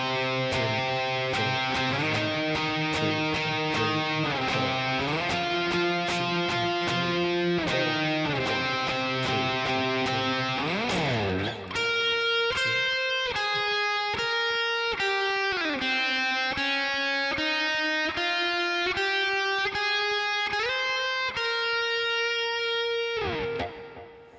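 An electric guitar solo from a song plays with effects and slight distortion, running through melodic phrases with quick note runs and sustained bends, loud and continuous throughout, ending on a long held note.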